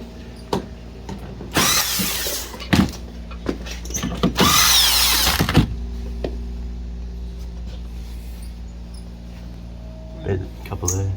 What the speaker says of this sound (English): Quickest screw gun slinger in the West.